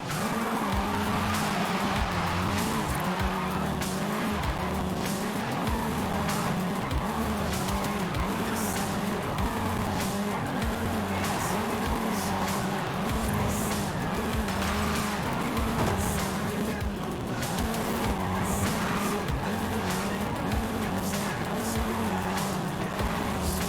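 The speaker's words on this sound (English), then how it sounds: "This version is the Volkswagen Golf R, R meaning race." A Volkswagen Golf R drives in the racing game Forza Horizon 5, its engine droning loudly and continuously with shifting revs and tire squeal throughout, no talking.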